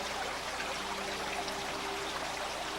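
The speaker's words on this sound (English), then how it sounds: "cascade waterfall just in front of the main entrance of our hotel in Milchel" An artificial cascade waterfall in front of a hotel entrance in Morocco gives a steady, continuous rush of falling water, an even broadband wash with no talk over it.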